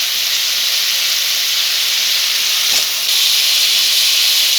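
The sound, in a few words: tomato and onion frying in hot oil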